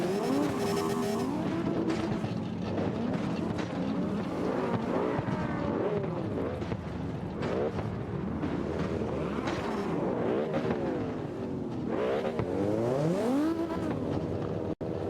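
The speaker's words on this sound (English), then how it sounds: "of course it's a Miata. It has to be a Miata." A Mazda Miata works through drift practice, its engine revving up and down in repeated sweeping swells, with tyre skids mixed in, loud and continuous throughout.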